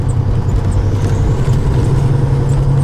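A 2001 Peterbilt 379 truck with a Caterpillar engine and exhaust stacks, running without a trailer on a country road, hums in a steady, loud low drone as it picks up speed, with no voices.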